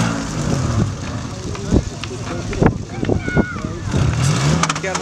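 Off-road car engine revving on a muddy trail course, loud surging bursts under shouting voices and wind noise, with repeated throttle blips throughout.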